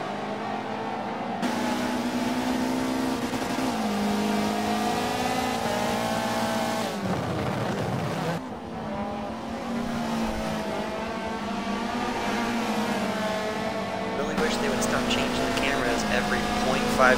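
Race cars in the Michelin Pilot Challenge at Sebring, including TCR touring cars, accelerate with sustained high-revving engine roar and shifting pitch, continuous and loud throughout under commentary-style talk.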